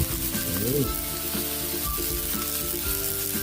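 Mussels (ginisang tahong) sautéing in a pan with pepper, a steady close sizzle broken by occasional stirring scrapes.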